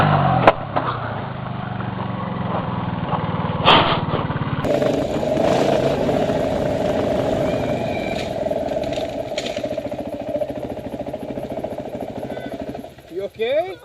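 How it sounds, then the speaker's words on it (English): Dirt bike engine revving hard during a burnout: a loud, sustained raspy drone that holds steady for several seconds and then cuts off abruptly, with faint voices in the background. "Just give it a bunch of gas and drop the clutch."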